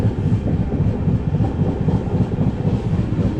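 A general-class Indian railway carriage rattling along the tracks, a steady loud low rumble with continuous clattering from the wheels, heard from inside the coach.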